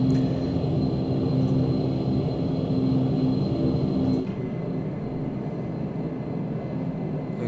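Majestic Q400 turboprop airliner in Flight Simulator, a steady droning hum of engines and propellers at low power while waiting for takeoff, continuous and mid-level with a slight drop in loudness partway through, no voices.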